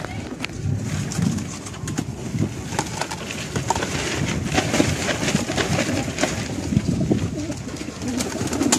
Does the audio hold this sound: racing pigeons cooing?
yes